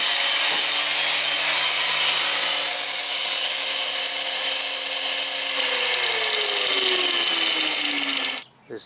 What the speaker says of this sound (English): sharpening his chisel